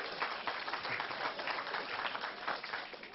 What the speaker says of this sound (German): Da klatschen die Steuerhinterzieher wieder.